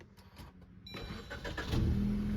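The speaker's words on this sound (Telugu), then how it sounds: "సో ఫ్రెండ్స్ నేనైతే ఇంజన్ అయితే స్టార్ట్ చేస్తున్నా." A 2015 Maruti Swift ZXI petrol car cranks briefly and its engine catches, settling into a close, steady idle that grows louder.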